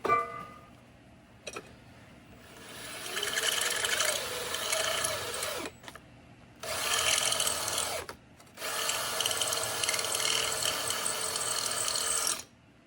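A cordless battery drill bores bolt holes in the base of a bumper-mounted vise, whirring in three long sustained bursts with brief pauses between, close and fairly loud, the motor sounding slightly strained as the battery runs low.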